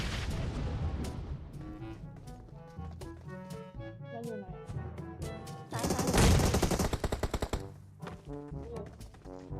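PUBG Mobile gunfire rattles in rapid bursts over a background music track, with a louder barrage of shots and blasts midway; no voices.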